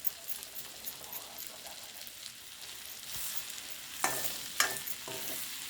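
Onions frying and being stirred in a pan for egg biryani, a soft continuous sizzle with a few louder scraping stirs near the end, no talking.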